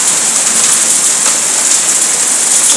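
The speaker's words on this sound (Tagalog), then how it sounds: "Ang lalaki ng ice dito. Ang ulan, ice." Hail falls in Riyadh in a dense, continuous hiss of pelting ice and rain, loud and steady throughout, with no voices.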